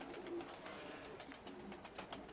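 Pigeons of a large breed, a male and a female, coo softly in the background, low repeated murmurs mixed with faint flutters and scuffs, fairly quiet and close.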